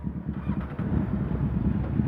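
Kawasaki Z800 motorcycle with an SC Project exhaust idling just after starting, a pulsing low throb close to the microphone, with some wind noise.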